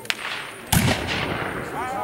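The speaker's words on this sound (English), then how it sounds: "Oh, here comes the cannon." A Civil War reenactment cannon fires a double canister shot, one booming blast after a brief sharp crack, with voices murmuring nearby.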